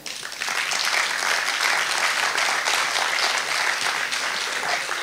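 Applause in a hall at an innovation event, honouring the prefect of the Attica region, a steady dense roar of many hands that continues for about five seconds.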